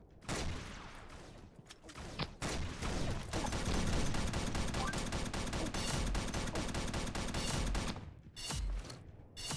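Gunfire in a video game with sniper rifles: a rapid, sustained volley of sharp shots with mechanical clatter, loud and continuous for several seconds before breaking off near the end.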